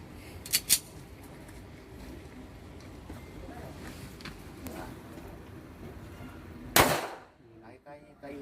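A handgun fired during precision shooting practice, with two sharp reports close together near the start and a louder single shot later, over steady background noise and a murmur of voices.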